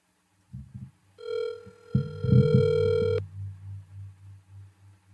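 A telephone being used to place a call gives a steady tonal ring, followed by low throbbing pulses that repeat and fade, heard alone and fairly close.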